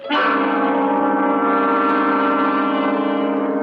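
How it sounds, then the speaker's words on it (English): A shop door bell rings at an antique store in a radio drama sound effect, a single bright struck tone with rich harmonics that sustains steadily and loudly with no talk over it. "the bell to my antique establishment announced one of my favorite and most lucrative customers, Mrs. Willoughby from Westchester"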